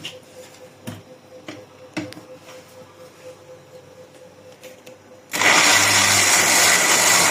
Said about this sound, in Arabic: واروح ضربهم بقى في الخلاط كده